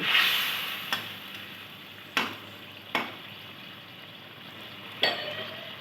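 Chital fish head simmering in a curry pan, a soft steady bubbling sizzle punctuated by four sharp clinks of a utensil against the pan, close up and with no talking.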